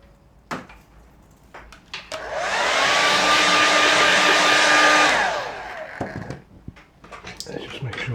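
A hair dryer blows steadily for about three seconds to dry a watercolour painting, loud and close with a constant whine. Light handling noises and brief clatters come before and after it.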